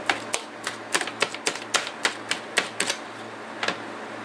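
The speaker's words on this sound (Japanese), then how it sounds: "切りながら混ぜるという感じです" Knife chopping through cooked potatoes for a Spanish omelette, about a dozen crisp, evenly spaced taps on a surface, close and clear with no talk.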